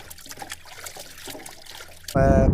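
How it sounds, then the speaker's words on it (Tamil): Raw chicken being washed in sea water outdoors, with a close trickle and splashing of water that turns into a louder pouring gush near the end. "கடல் தண்ணியிலே கழுவுவோம்"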